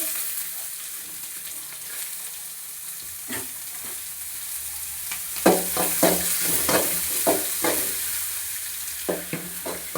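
Onions for fried rice fry in a pan with a constant soft sizzle, joined midway by a run of sharp scraping clacks as they are stirred, close up.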